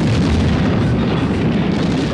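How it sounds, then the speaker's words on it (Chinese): A loud, sustained roaring blast fills a movie scene of an explosion after passengers are sucked into a plane engine, a dense, continuous rumble with no voices. "然后被吸进发动机，导致爆炸。"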